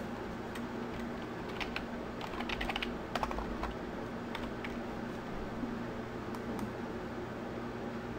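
Typing on a computer keyboard, entering text in a graphics program: a steady run of quick, soft key clicks with a few louder taps, close by over a constant low fan hum, with no talking.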